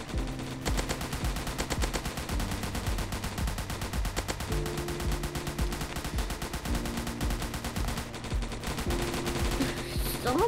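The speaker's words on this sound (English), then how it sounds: "I'm over here shooting him" Rapid bursts of machine-gun style gunfire aimed at a zombie in a zombie attack video game, steady and repetitive throughout under looping game music, fairly loud and close.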